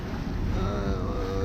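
Sailboat under engine power on a calm sea off the Balearic Islands, with a steady low motor hum mixed with wind buffeting the microphone and the wash of water.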